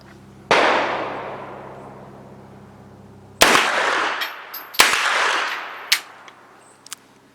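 Primary Weapons Systems PCC pistol firing heavy 100-grain composite rounds: three sharp, loud reports with long reverberant decay, spaced a second or more apart, followed by faint metallic clicks and clatter of the action.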